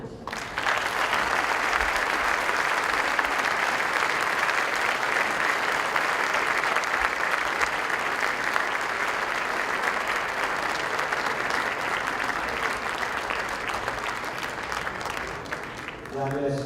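A conference audience gives sustained applause after a talk on transforming Madrid, steady dense clapping from a large crowd lasting well over fifteen seconds at even loudness.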